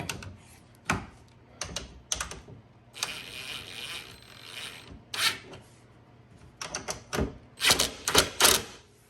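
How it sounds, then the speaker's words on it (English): A self-tapping screw is driven to fasten an ATV ground wire, giving quiet, uneven mechanical clicking and ratcheting in short irregular bursts, with the sharpest clicks near the end. "I'm going to hook the ground connecting wire up to the self-tapping screw"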